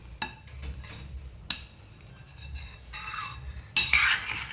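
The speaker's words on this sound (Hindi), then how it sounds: "उसमें मैं कड़ी डालकर थोड़ी सी हिलाकर वापस उसमें मिक्स करती हूँ।" A spoon stirs kadhi in a cooking pot with soft scraping strokes, separated by a few sharp metallic clinks against the rim, close and alone with no talking.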